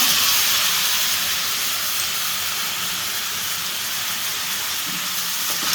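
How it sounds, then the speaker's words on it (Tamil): Finely chopped tomatoes hit a hot pan for prawn masala, giving a loud, even hiss of steam and sizzle that starts strong and holds steady, close up with no voices. "ஒரு 2 தக்காளி, பெரிய தக்காளியாக பொடிசாக கட் பண்ணி வச்சுருக்கேன், அதையும் இதில் சேர்த்துக்கிடுங்க."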